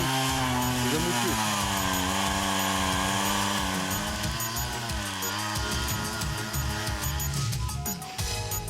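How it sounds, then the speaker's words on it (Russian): A chainsaw runs steadily in a taiga forest by a river, its loud engine drone holding high and shifting pitch slightly as it works through wood, with rapid rattling toward the end. "пила в лесу становится необходимым инструментом"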